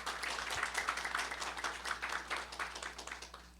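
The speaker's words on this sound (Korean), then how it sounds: "큰 박수로 환영해 주시길 바랍니다." A forum audience at an energy conference gives a moderator a welcoming round of applause, a steady mid-level patter of many hands clapping with a faint low hum underneath.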